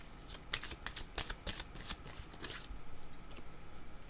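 Oracle cards being shuffled by hand during a card reading, quick crisp riffling bursts followed by softer continuous shuffling, close and quiet, with no talking.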